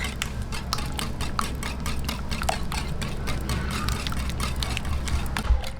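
Evaporated milk and vegetable oil mixed into a sugar batter for steamed banana cupcakes, a utensil repeatedly tapping and scraping a bowl in quick, steady strokes close by.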